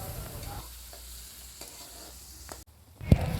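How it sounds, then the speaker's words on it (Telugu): Onions and curry leaves fry in a pan, a soft steady sizzle with occasional stirring scrapes and a louder clatter near the end. "ఎర్రగడ్డలు బాగా బ్రౌన్ కలర్ వచ్చేంత వరకు ఫ్రై చేసుకోవాలి."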